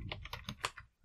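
Rapid keyboard and mouse clicks at a computer while setting up Windows 11 on an Apple M1 or M2 Mac, a quick, close, light series of about eight crisp taps in under a second, quiet and with no talk.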